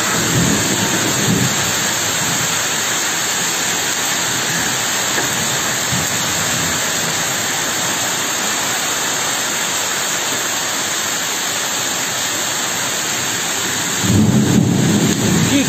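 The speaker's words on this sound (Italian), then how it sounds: "Sembriamo in pieno inverno, la grandine grossa e fitta." A heavy, dense hailstorm with thunder in Gravina, Puglia, with large hailstones. A loud, steady roar of hail and rain fills the scene, swelling and thumping harder near the end, with no talking.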